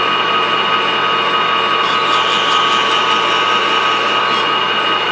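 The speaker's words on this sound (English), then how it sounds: "put the cutoff tool on there. I'm going to cut these things." A cutoff tool cutting Delrin curtain rod parts gives a loud, steady mechanical whine and grind that holds without a break and has no talk over it.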